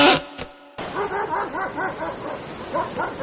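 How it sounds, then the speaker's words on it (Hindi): Several dogs on Dumas Beach at night bark and yip in quick, overlapping bursts after a brief faint opening, close and fairly loud, with a whimpering edge to some calls. "कुत्तों की आवाज जरूर आ रही थी"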